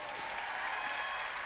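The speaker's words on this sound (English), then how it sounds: "give yourself a round of applause." Brief wash of audience applause at a Las Vegas live event, steady and fairly distant, continuous throughout.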